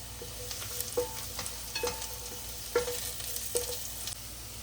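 Cashews and carrot pieces fry in a pan with a soft sizzle, broken by several light clinks and scrapes of a spoon at irregular intervals, fairly quiet and close with no speech.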